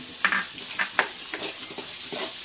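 Garlic sizzles steadily in a hot pan while frying for kangkong fried rice, with a constant loud hiss and a few soft stirring scrapes, no talking.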